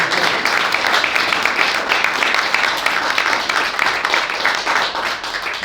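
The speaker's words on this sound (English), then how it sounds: "So let's give them one more round of applause for being here" Audience applause for young people at a California Legislative Black Caucus event, a dense, steady wash of many hands clapping that holds at an even, fairly loud level throughout without any speech.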